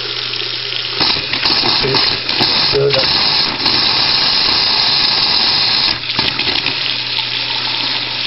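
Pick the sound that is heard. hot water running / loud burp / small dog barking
hot water running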